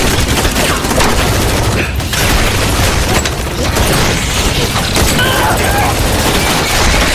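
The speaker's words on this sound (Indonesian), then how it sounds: "Chunho memberi perintah untuk menembak" Dense, continuous gunfire after an order to shoot, loud and sustained with booming bursts layered over a constant roar throughout.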